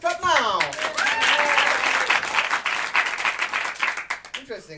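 Audience at an English-language improv show at the Paris improv festival claps along, a dense burst of applause that starts after a singing voice and carries on under continuing vocal sounds and talk.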